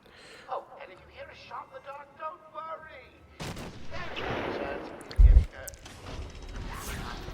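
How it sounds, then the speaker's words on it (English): Sniper fire in the Batman: Arkham Asylum video game: quiet game sounds give way to a sudden loud burst, with a heavy, close thump a couple of seconds later. A rumbling wash of noise follows. "And of course I get sniped."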